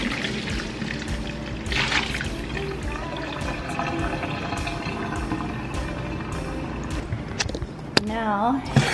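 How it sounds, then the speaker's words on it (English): Cool water poured over cooked noodles in a strainer for vegan tofu curry noodles, a steady rushing pour running continuously at moderate level, with a brief clatter near the end. "And now I'm actually going to take this out and put some cool water on it and let it strain."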